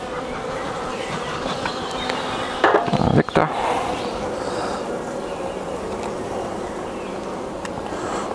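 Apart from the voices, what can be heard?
honeybees buzzing at an open Dadant hive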